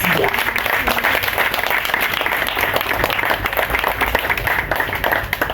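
An audience at a graduation ceremony applauds the graduating class, a close, loud, dense burst of many hands clapping that holds steady throughout.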